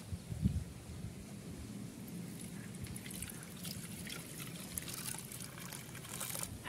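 A quiet, steady trickle of blended mint and chili paste being poured through a strainer for pani puri water, with a few faint clinks of utensils at the start.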